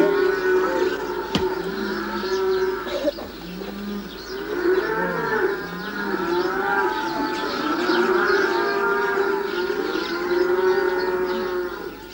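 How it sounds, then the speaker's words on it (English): A mixed herd of cattle and donkeys moves through rough village streets near Eber Lake in Türkiye in early morning, cows mooing repeatedly and loudly with overlapping calls, with pigeons cooing faintly in the background. "Mixed herds of donkey and cattle, which the villagers raise and sell, are driven through the rough streets"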